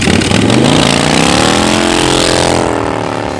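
Harley-Davidson motorcycle doing a burnout, the engine revving hard and very loud up close, with its pitch rising and holding steady in a sustained roar that eases slightly near the end.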